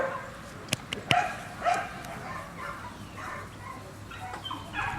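A pit bull gives a few sharp barks and yips early on, then quieter whimpering noises follow against a steady background hum.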